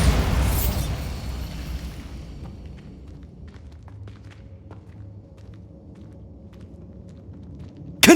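A Bombarda spell blast in Hogwarts Legacy bursts loudly at the start and rumbles away into quiet ambience, with a sharp new hit at the very end.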